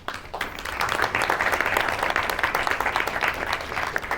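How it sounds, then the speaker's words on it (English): Audience applause fills a school staff session at Belmont High, a dense, steady wash of many hands clapping close by, swelling quickly after a brief quiet start and holding loud throughout. "Can we clap it up for ourselves?"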